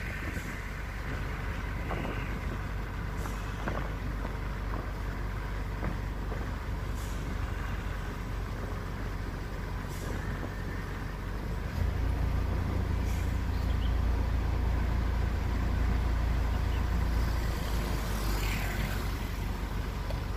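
Trucks and buses on the Gumitir mountain road between Surabaya and Banyuwangi, a continuous heavy engine rumble that deepens and grows louder partway through, with faint hisses and clanks, no voices.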